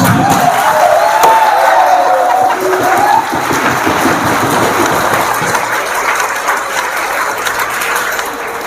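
Steady applause from a large audience at a motivational talk, loud and continuous throughout, with a dense wash of clapping and faint crowd voices.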